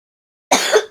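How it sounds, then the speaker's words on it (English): A single sharp, loud cough bursting out of silence from a person close by, then quickly trailing off. "Coughing, apparently."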